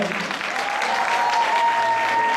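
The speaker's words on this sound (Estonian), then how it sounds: "Teeme suur aplaus Eesti meestele." Dense, steady applause fills a hall at a 2017 ball, the whole crowd clapping together while a faint sustained musical tone carries on underneath.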